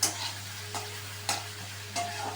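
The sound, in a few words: onions frying in oil in a pan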